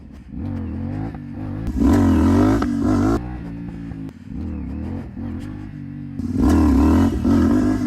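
A CFMOTO 450SS sport motorcycle revs hard during wheelie practice, its engine roaring up in three or four loud surges with brief dips between, close to the rider.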